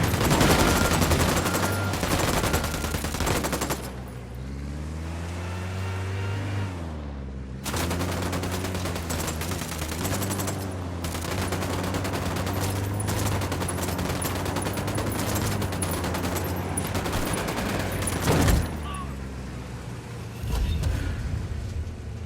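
Gunfire in the Ghost Recon Wildlands shooter game, sustained rapid bursts of automatic rifle fire with brief pauses and a sharp closing burst, loud and dense over a low droning background.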